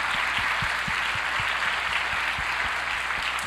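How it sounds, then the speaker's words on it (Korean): A church youth congregation applauds in encouragement, a dense, even wash of many hands clapping at close range for the whole stretch, with a few heavier individual claps standing out. "이분들을 위해서 좀 격려의 박수를 먼저 보낼까요?"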